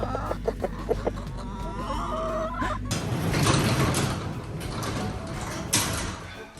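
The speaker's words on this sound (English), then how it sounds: "You guys are the funniest chickens ever." Chickens cluck and murmur nearby, followed by a rougher burst of scraping and rustling noise that covers the second half.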